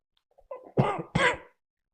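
Two sharp, close coughs in quick succession after a short breathy lead-in, then silence.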